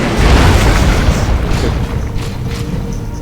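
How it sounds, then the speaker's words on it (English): Grenade launcher explosions in the strategy game Dawn of War 2 Retribution during a 2v2 multiplayer battle, a loud booming blast that rumbles and slowly fades, with smaller pops trailing off. "His grenade launcher is doing massive damage"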